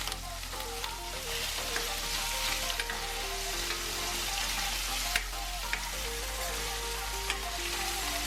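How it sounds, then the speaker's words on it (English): Tofu frying in a pan over medium heat, a steady close sizzle and crackle with occasional clicks of utensils, holding even throughout with a low hum beneath and no talking. "Cook tofu."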